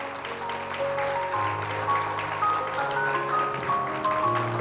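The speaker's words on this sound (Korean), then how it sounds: "박수로 환영해 주시기 바랍니다." Welcoming applause from a forum audience in Chuncheon greets a former Democratic Party leader, a steady wash of clapping heard alongside sustained musical tones played through the hall.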